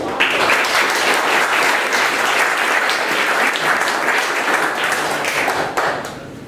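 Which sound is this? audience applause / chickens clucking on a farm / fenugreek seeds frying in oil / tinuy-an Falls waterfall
audience applause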